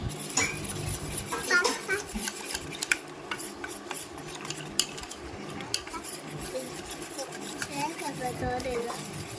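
Ginger dosa batter is stirred in a bowl with a utensil, giving steady scraping and rubbing with frequent light metallic clinks against the bowl, close and continuous, with occasional soft voices in the background.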